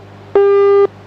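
A single steady electronic tone from a mobile phone, clean and loud, holds for about half a second against a low background hum, then cuts off abruptly.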